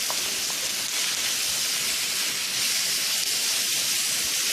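Pork frying in a pan for pork fried rice, a steady loud hiss and sizzle of meat being stir-fried, continuous throughout with no talk.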